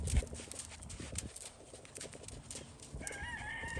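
A Tennessee Walking Horse moves around an arena during a riding lesson, its hooves clip-clopping in a steady rhythm at moderate distance, with a brighter tonal sound entering near the end.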